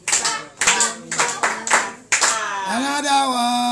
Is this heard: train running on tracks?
no